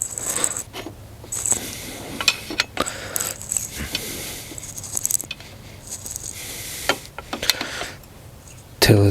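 The AC clutch pulley on a 2008 Subaru STI is turned slowly by hand, giving soft metallic clicks, ticks and scrapes at irregular intervals against quiet garage background.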